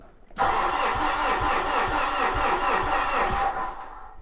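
A Fuso truck's 4P10 engine cranking slowly over a starter motor with a rhythmic, pulsing churn, loud and close, running for about three seconds before stopping.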